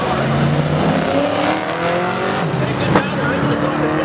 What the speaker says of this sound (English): Tracy Anderson behind the wheel of that 1971 Chevrolet Camaro